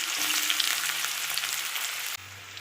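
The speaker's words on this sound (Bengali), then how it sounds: "এবার পেঁয়াজ দিয়ে দেবো।" Onions hit hot white oil tempered with cumin and fry in a steady, bright sizzle that runs unbroken for over two seconds, then drops off abruptly to a low hum.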